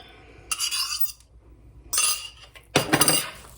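Beaten eggs and chicken broth being mixed into bread stuffing in a bowl: three separate bursts of spoon scraping and clinking against the bowl, close and fairly loud, with quiet pauses between them.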